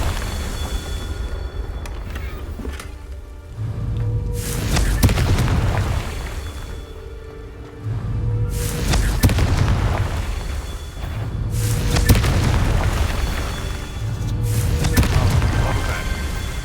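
Confringo spell blasts in the video game Hogwarts Legacy: a series of deep, rumbling booming explosions, each swelling and fading over a couple of seconds, loud and close amid continuous game noise.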